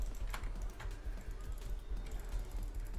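Computer keyboard keys click in quick, uneven bursts during a World of Warcraft session, quiet and close, with soft background music faintly underneath.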